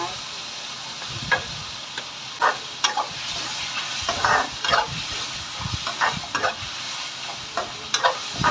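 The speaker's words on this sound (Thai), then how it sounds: "ผัดกเนื้อสัตว์ให้สุกนะคะ" Meat is stir-fried in a hot pan, a continuous loud sizzle overlaid by repeated scraping and clattering strokes of the spatula at an uneven rhythm, close to the listener.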